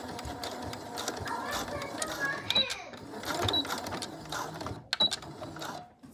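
Sewing machine stitching elastic into the casing of a scrub cap, a steady whirring run of stitching with brief pauses and a few sharp clicks, fairly close.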